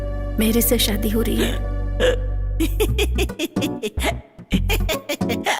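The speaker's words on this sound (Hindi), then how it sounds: "आपको हिचकी आ गई क्या?" A man's hiccups break up his speech at a wedding-related family gathering in a Hindi-dubbed comedy film. Several short, sharp catches come between his words and sit close to the listener.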